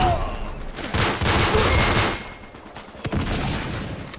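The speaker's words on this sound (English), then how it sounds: "Oh god, explosions, chaos." Dense gunfire and explosions from the video game Uncharted 3 during a team objectives match, with rapid bursts and booming blasts surging loudly, then trailing off into scattered shots.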